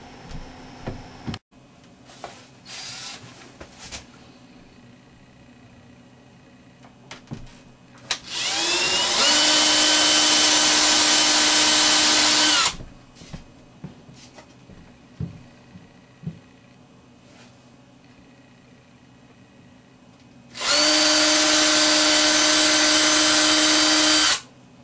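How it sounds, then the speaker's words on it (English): A power drill bores bolt holes in a guitar-building work table, in two loud sustained whining bursts of a few seconds each, separated by quieter handling clicks and knocks. "drilled the holes and I countersunk them a little bit"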